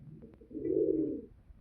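A single low, soft pigeon coo swells and fades, close by, preceded by a couple of faint clicks.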